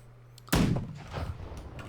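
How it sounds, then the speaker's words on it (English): Cannon fire in a naval battle game, a single sharp loud boom that bursts out abruptly after a quiet moment, then rumbles and decays into lingering broadband noise. "They want to shoot lots and lots of cannonballs."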